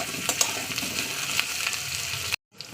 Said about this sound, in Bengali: এই তেলেই ভাজা করবো